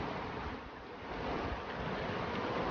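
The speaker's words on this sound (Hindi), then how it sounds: "दूर से चली आ रही नदी का बहाव" Steady rushing water from a distant river flows without a break, a broad even wash that holds at a moderate level and swells slightly midway.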